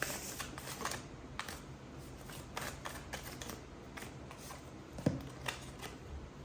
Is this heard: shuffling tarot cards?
yes